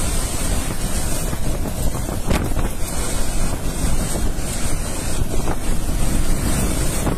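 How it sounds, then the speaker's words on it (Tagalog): Fierce typhoon wind from Typhoon Odette batters parked trucks, a continuous loud roaring rush with buffeting gusts and rattling, no voices. "Inuuga-uga yung mga truck namin guys. Hangin pa lang."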